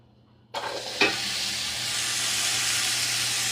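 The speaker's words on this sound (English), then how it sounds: "we're going to saute these up to get them what's called translucent" A single chopped onion dropped into hot oil, bursting into a sudden loud, steady sizzle that holds strong and even after a brief clank, close and alone with no talk.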